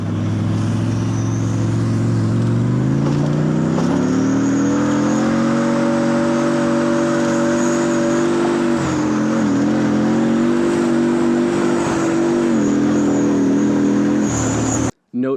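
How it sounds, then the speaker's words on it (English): A loud, heavy T-64 tank's five-cylinder opposed-piston diesel engine drones steadily up close, its pitch rising as it revs, then holding a deep rumbling throb. "The T-64 also has a 5-cylinder opposed piston diesel engine, which makes a very distinctive sound."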